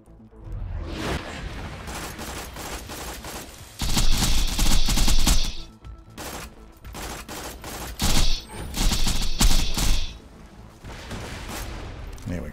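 Loud bursts of Dahl Sand Hawk SMG fire in a video game fight against Emperor Spiderants, two heavy volleys around the middle and later, with quieter shooting and impacts between them.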